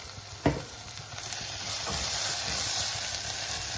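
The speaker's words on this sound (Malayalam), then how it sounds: "നല്ലതുപോലെ അതിൻ്റെ ആ പച്ചമണം ഒന്ന് മാറുന്നതിന് വരെ ഇളക്കിക്കൊണ്ടിരിക്കണം." Liver roast frying in a pan with pepper and masala powder, stirred steadily, giving a constant close sizzle with a sharp scrape of the spoon near the start.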